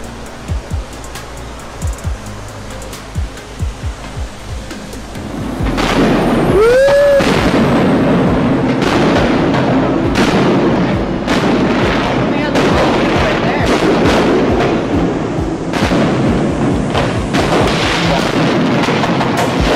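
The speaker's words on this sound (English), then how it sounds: "we just got done watching the fireworks from our hotel balcony. It was really loud." Fireworks over Oahu heard from a hotel balcony, with a rapid series of loud booms and crackling bursts that build into a dense, continuous barrage after a quieter start.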